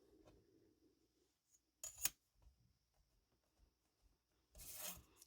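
A blade slices through a polymer clay tulip cane with two short, sharp scraping cuts, quiet handling sounds between them, close and otherwise near silent.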